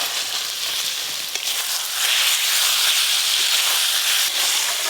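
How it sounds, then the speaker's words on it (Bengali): Fried eggs sizzling in a pan of cooked-down spice masala for egg curry, a loud continuous hiss that swells and grows fuller midway, with no voices. "সব মশলা ভালো করে কষে নিয়েছি, আর ওপর দিয়ে এবার ডিমগুলো দিয়ে দেবো"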